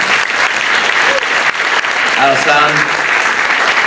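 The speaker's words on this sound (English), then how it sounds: "our first honoree, and I want you to welcome with a big round of applause, is Alsan Susu, our first honoree." Loud, sustained applause from a crowd fills the room at an Eid ul Fitr celebration, steady clapping with a few cheers and voices mixed in.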